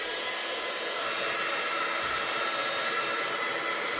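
A hair dryer blows across a wet art journal page with a steady, loud, unbroken whoosh, no voice.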